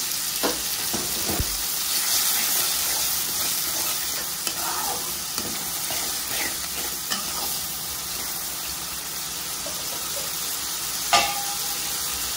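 Tomatoes with two green chillies and ginger-garlic paste sizzle and frying steadily in hot oil, a continuous crackle with occasional stirring scrapes and a sharp clink near the end, no talking.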